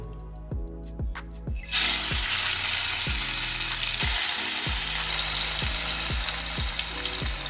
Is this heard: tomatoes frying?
yes